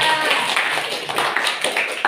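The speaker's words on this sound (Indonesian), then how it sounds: "tepuk tangan buat Adis ya." Scattered hand claps from a small group, brief and uneven, over a couple of seconds.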